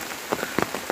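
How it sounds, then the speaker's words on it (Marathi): Rain falls in woodland scrub, heard as a brief, close patter of drops striking leaves and surfaces, uneven and soft. "पाऊस चालू असा"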